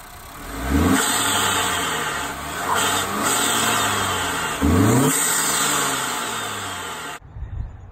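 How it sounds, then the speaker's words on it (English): A 2018 Honda Accord engine fitted with an aftermarket air intake revs up several times, rising and falling in pitch with a whooshing intake note over steady wind noise, close and loud, with no talk. "So that was the sound of the air intake."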